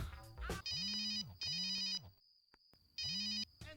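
An electronic phone ringtone chirps in three repeating bursts with short gaps between them, fairly close and clear.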